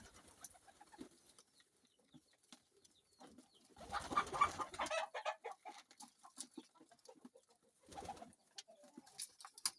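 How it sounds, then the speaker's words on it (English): Pigeons and chickens in the housing of a Kenyan kienyeji chicken farm, scattered soft coos and clucks with wing flutters, faint and intermittent, and a couple of louder rustling bursts. "Inside here you can see some pigeons"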